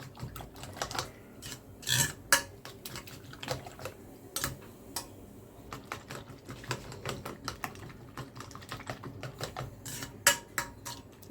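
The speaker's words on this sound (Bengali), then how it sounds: "আর এই যে এখন ডিম একদম ফেটে নেব।" Eggs are beaten in a bowl for an egg bhaji with dried chili, tomato, onion and coriander leaves, making quiet, irregular clinking taps and scraping strokes in quick bursts with no talking.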